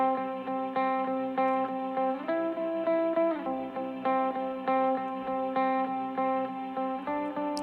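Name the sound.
looped guitar part played from Octatrack Mk2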